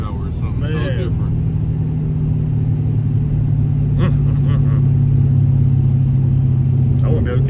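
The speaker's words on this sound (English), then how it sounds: "Oh, that supercharger power is something Man. so different." A Dodge Hellcat Redeye's supercharged engine accelerating, heard from inside the car as a loud, steady, droning rumble that holds through the whole stretch, with people talking over it.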